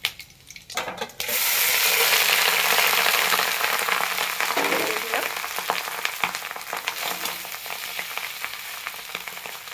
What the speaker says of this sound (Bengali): এবার আমি ভাতটা এর মধ্যে ঢেলে দিই।